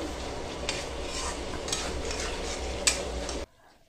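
Chicken and potato curry with salt being sautéed and stirred in a pan, a steady close sizzle with scraping spoon strokes and a sharp clink near the end before sudden quiet.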